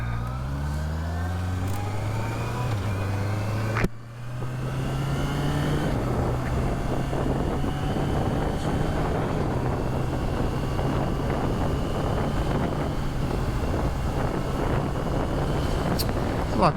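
A learner-approved Honda CBR650R motorcycle with an electronic clutch pulls away on a New Zealand road. The engine revs rise through first gear, there is a brief dip at a shift, and then steady acceleration continues under heavy wind noise.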